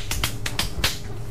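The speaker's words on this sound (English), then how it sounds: "Could you display some of your clapping techniques to us right now?" Handclaps in a close, uneven rhythm: about five sharp, crisp claps spaced irregularly over a low steady hum, with no talking.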